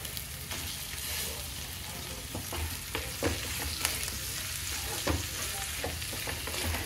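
Potato pieces tossed into onions already frying in a pan sizzle steadily, with sharp clinks of a spoon stirring at irregular intervals, close and fairly quiet, no talking.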